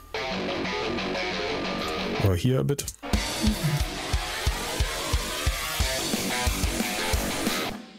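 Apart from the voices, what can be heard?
electric guitar without bass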